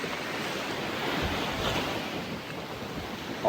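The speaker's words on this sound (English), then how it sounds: "The waves here in Bali literally suck you in." Ocean waves surge and wash continuously along the shore in Bali, a steady broadband roar of surf with wind buffeting the microphone, close and fairly loud throughout with no voices.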